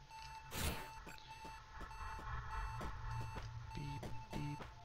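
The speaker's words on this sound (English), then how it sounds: "At least it beeps with the beat of the music, mostly." Repeated electronic beeps from a video game, pulsing roughly in time with a steady music track that plays throughout; the beeps are clear and regular over the background music.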